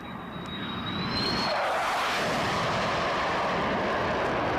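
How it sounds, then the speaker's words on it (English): An F-4 Phantom jet takes off on afterburner, a thin whine at first giving way to a loud, rising broadband roar that builds within a second and holds powerfully to the end. "Afterburner, great looking airplane on takeoff."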